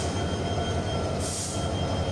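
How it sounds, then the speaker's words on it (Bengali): A train at Chittagong railway station rumbles steadily and loudly close by, with a brief high wheel squeal rising midway through. "এ হলো চট্টগ্রাম রেল স্টেশন"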